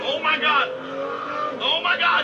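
A race car speeds past with a high, whining engine, rising and falling in two loud bursts with a steadier tone between them, under a voice talking.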